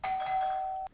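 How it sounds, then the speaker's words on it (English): A single electronic doorbell chime rings out clearly, a bright sustained tone lasting nearly a second before cutting off. "Doorbell in 3, 2, 1."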